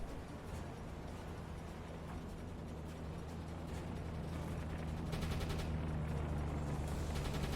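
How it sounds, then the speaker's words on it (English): Depth bombs explode near a submarine in the UBOAT video game, heard as a steady low rumbling roar with rattling, crackling bursts layered on top that grow a little louder toward the end. "Depth bombs are in. Very close."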